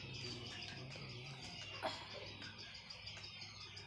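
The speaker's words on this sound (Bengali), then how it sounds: "এই কোয়েল পাখিগুলো আপনারা দেখতে পাচ্ছেন, কোয়েল পাখির বয়স আজকে 11 থেকে 12 দিন" Quail chicks about eleven to twelve days old at a quail farm give faint, high, thin chirps that repeat through a low, steady background hum, with one slightly louder peep partway through.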